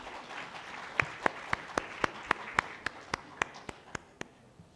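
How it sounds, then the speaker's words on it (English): Audience applause at a national women's conference technical session, with a steady run of about a dozen sharp, evenly spaced claps standing out over a softer bed of crowd noise, fairly close and fading near the end. "A huge round of applause, audience."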